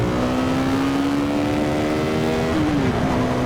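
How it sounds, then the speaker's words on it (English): A KTM 390 Duke motorcycle engine revs loudly and up close, its pitch climbing steadily through the rev before briefly dipping and rising again. "This bike's already loud, so it might just blow out the microphone and I won't be able to use anything."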